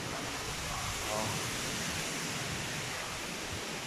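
Steady, dense roar of Typhoon Odette's strong wind blowing without pause over a farm, broadband and loud, with a slight surge midway.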